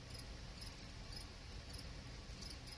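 Feeder crickets kept for tarantulas chirp faintly indoors in a steady run of high, pulsing trills against a low background hum, with no talking.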